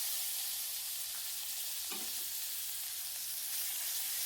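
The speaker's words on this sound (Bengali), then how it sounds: "আমি এই একই তেলে আমি আরেকটু তেল দিয়ে দিব, সর্ষের তেল। এবার এতে পেঁয়াজ বাটাটা দিয়ে দিব।" Onion paste frying in mustard oil in a pan, a steady, even hiss of sizzling throughout, with one faint stir or clink partway through and no talking.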